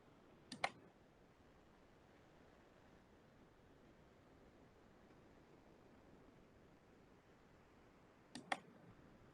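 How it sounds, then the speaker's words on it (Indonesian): Two short bursts of mouse clicks on an on-screen keyboard in the CPU OS Simulator, one near the start and one near the end, separated by a long stretch of quiet room hiss. "Kita klik satu lagi, biar menjadi 4 kali."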